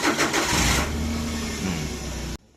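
A Suzuki DA64V van with a K6A engine cranks on its starter with a weak charging fault, giving a close, loud, steady whir that catches briefly before cutting off abruptly.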